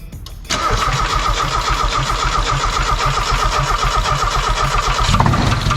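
A Mazda Miata engine cranks briefly, then catches and settles into a loud, steady mid-pitched running drone close by, holding evenly until a slight change near the end.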